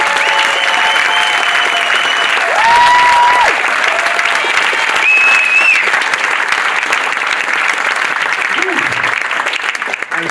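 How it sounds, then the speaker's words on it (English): Extra applause for the founders at a hospitality Demo Day, loud sustained clapping from a large crowd filling the room, with tonal whoops and cheers rising over it throughout. "Let's get some extra applause for all the founders."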